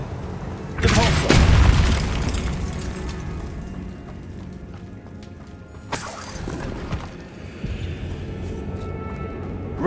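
Depulso spell fired in Hogwarts Legacy: a sharp, loud booming blast with a crackling shatter that fades into a low rumble, followed by a second, smaller burst a few seconds later.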